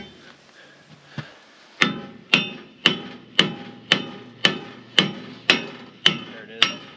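A hammer drives a bushing into a bulldozer with about ten sharp, evenly spaced metallic strikes, loud and close, each ringing briefly after a quieter stretch.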